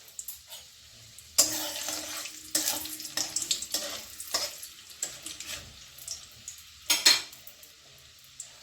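Urad dal and chana dal tempering in hot oil with bursts of sizzling and frying, punctuated by clinks of a spoon against the pan, moderately close, no talk.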